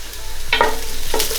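A spoon stirs a south Indian style beef curry in a pot, giving two short scraping strokes over a faint steady sizzle, close and moderately loud with no talking.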